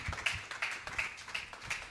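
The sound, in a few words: congregation clapping for the Lord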